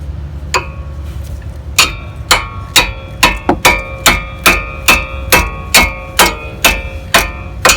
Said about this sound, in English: you can open, just hammer it like this.